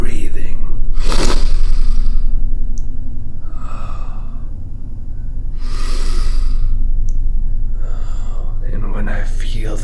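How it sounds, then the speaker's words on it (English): Slow, deliberate breathing exercise by a man, loud, close airy inhales and exhales in a few long cycles, alone without talk. "So I do the breathing."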